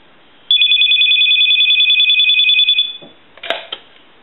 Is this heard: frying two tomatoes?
no